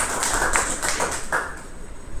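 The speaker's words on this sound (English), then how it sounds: "So let's give the round of applause for him." Applause from a Toastmasters club audience for the table topic winner, a short spread of scattered claps with a few sharper individual hits, moderately close and with no talking.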